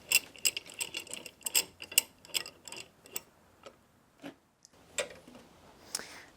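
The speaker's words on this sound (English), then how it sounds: "So we can clamp those down." Clamps being tightened onto a sawn frame of a wooden boat give rapid ratcheting clicks in uneven bursts. Scattered clacks follow after a short pause, all close by and without talk.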